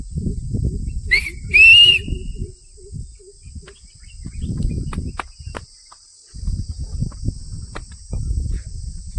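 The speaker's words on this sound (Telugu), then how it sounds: "ఇటు చూడండి మా బాబు విజిల్ వేస్తున్నాడు" A boy whistles a short rising two-note tune, clear and fairly close, over the low rushing of a rain-swollen village stream after overnight rain, with scattered clicks around it.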